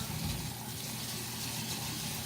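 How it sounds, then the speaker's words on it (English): Tap water runs steadily over sushi rice in a strainer, a faint, even gushing hiss with no talking. "So run your water"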